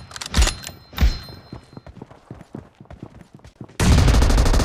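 Sharp M24 sniper rifle shots from a mobile shooter game, two loud cracks about a second apart followed by lighter rapid firing and thuds, then a sudden burst of dense noise.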